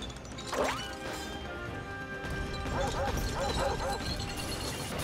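Dogs barking in the video game Super Mario Odyssey, a few quick yapping barks in a cluster over a busy game soundscape with a rising swoosh near the start.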